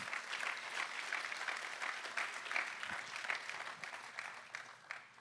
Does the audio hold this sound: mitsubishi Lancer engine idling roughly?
no